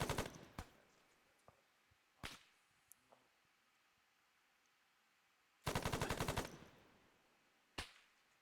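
Gunshots during squad shooting training: sharp single cracks spaced apart, then a rapid automatic burst of many rounds, followed by another lone shot, all crisp against quiet background.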